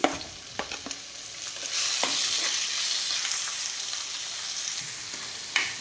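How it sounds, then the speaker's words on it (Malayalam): Chopped tomatoes sizzle loudly in hot coconut oil with a steady hiss, broken by a few clicks and scrapes of a spoon stirring the pan. "ആ വെളിച്ചെണ്ണയിൽ ഇട്ടൊന്ന് വഴറ്റിയ പച്ചമണം മാറി എടുക്കണം"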